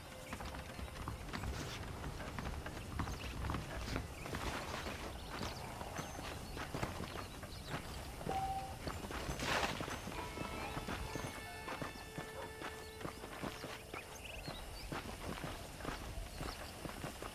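Horse hooves clip-clopping at a walk in Red Dead Redemption, steady rhythmic thuds throughout with faint ambient wind and occasional creaks, no talking.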